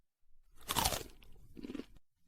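A sweet, crunchy sugarcane ball is bitten into, making a quiet, close crunch followed by a few softer chewing crackles, with no talking.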